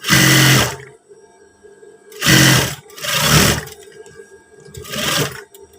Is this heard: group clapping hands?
no